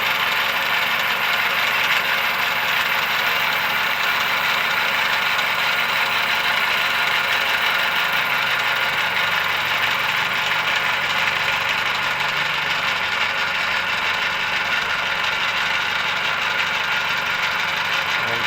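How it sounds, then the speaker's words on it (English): A lathe cuts a titanium ring, a steady, loud, dense whirring and hissing drone with a faint sweeping tone that holds unbroken throughout, with no voices. "Then I'm going to take the rest off on the lathe,"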